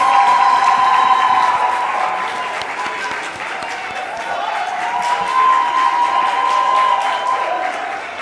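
Audience at a public sector debate competition grand final applauding as the debate teams walk to the platform, a broad, sustained wave of clapping with some cheering, loud and steady with a slight dip midway, and faint talk underneath.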